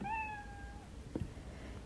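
A single drawn-out cartoon cat meow, the default sprite sound in Scratch 3.0, rising then sliding down and fading over about a second. A faint click follows in otherwise quiet background.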